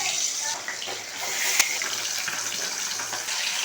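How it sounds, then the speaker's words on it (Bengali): Pabda fish pieces coated in salt and turmeric fry in hot mustard oil in a kadai, making a continuous loud hiss broken by one sharp crackle. "কড়াই গরম হয়ে গেছে একে একে লবণ হলুদ মাখানো মাছগুলি দিয়ে দেবো"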